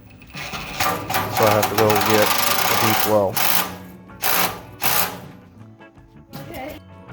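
A power drill with a socket tightens a bolt on a Craftsman table saw and shaper in several whirring, ratcheting bursts of varying length, with someone talking briefly over the work.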